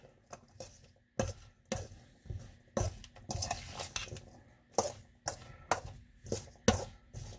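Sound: mixing mango salsa in a bowl

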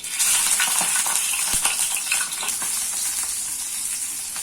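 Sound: dal paturi shallow frying in mustard oil

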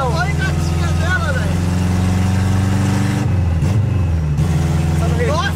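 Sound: Chevrolet Chevette car engine

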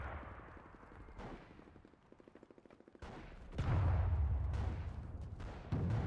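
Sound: enemy gunshots in the video game Enlisted

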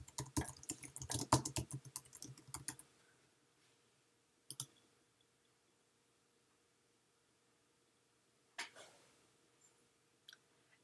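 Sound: computer mouse clicking and keyboard typing

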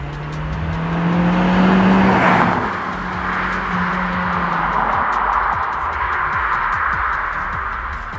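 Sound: SEAT Leon Cupra R Mk1 turbocharged car driving

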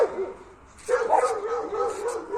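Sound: dog barking

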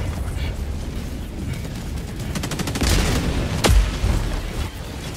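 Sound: gunfire in Helldivers 2 video game

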